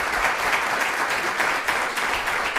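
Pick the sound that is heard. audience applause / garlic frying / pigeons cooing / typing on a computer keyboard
audience applause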